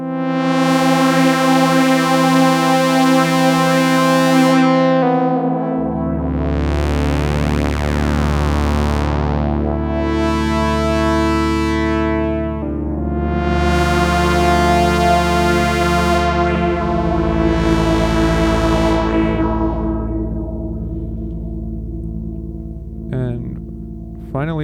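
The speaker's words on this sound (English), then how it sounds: "all the parameters of the phaser are automatically available here" Sustained Behringer DeepMind 12 synthesizer chords with a sweeping, swirling LFO-modulated phaser that rises and falls rhythmically across several cycles, loud and continuous with no voices.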